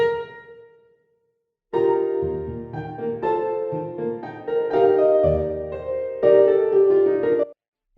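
Software playback of a draft Lydian prelude from Sibelius notation software: sustained piano-like chords with moving eighth-note lines, a brief opening tone, a short pause, then about six seconds of steady, fairly loud music with no talking.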